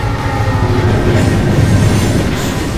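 Heavy rumble of a moving train in the PC game Tomb Raider Legend, with low rolling wheel noise, rhythmic clatter and faint metallic squeal, loud and continuous throughout.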